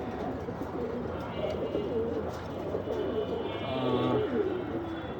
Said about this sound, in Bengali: এই যে এদিকে কবুতরের থর দিয়ে দিছি।